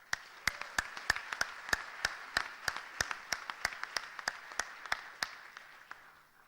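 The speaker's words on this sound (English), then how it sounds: "I would like to ask us to applaud in his name too." A conference audience applauds at a closing plenary session, with sharp individual claps standing out over a steady wash of clapping that holds for about five seconds before fading out.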